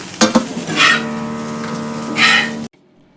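Taro root pieces fry in hot oil, with a steady close sizzle broken by a few sharp scrapes and stirring clatters of a utensil in the pan before the sound cuts off.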